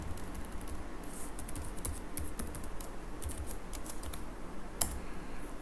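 Rapid, steady clatter of fingers typing on a computer keyboard while writing C# code, with one sharper keystroke near the end and a constant low hum underneath; no voices.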